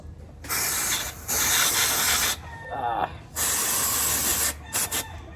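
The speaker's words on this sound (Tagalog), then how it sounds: "So ganito lang, spray nyo lang." Aerosol sensor cleaner hisses onto the throttle of a Mitsubishi Mirage G4 gasoline engine in several loud, close spray bursts separated by brief pauses.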